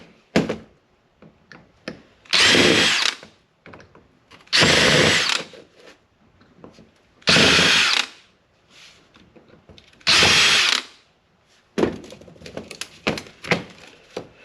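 A power screwdriver backs Phillips screws out of a board in a burned metal frame, in five separate whirring bursts of about a second each, with small clicks and handling knocks between them.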